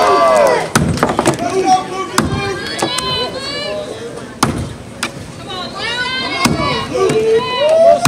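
An axe strikes a vertical block in a pro-division vertical chop at a timber sports competition, sharp thwacks landing at an irregular pace under a commentator's excited talk and crowd noise.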